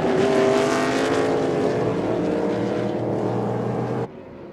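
Race cars in a GRP 10 event scream past on the opening lap, a loud sustained engine roar with harmonic whine that fades slightly before cutting off abruptly near the end.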